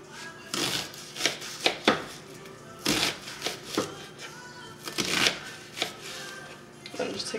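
A knife chopping through an onion on a cutting board in a home kitchen, several sharp close cuts and board knocks in an irregular rhythm, with no talking.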